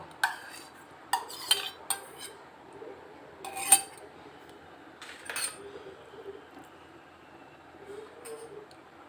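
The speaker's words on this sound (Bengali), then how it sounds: "তড়কাটা বাটিটার মধ্যে ঢেলে দেব।" Tempering is poured into a bowl for Bengali moglai paratha filling, then metal utensils clink and scrape against it in scattered knocks, with soft background noise between.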